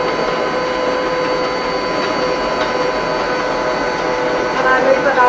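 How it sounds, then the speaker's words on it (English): An electric mixer whirs steadily and loud as oil and egg are whipped until frothy for oatmeal muffins, a continuous motor hum with no talk over it. "Then I fluff my oil with my egg, making sure that everything starts to get frothy and foamy."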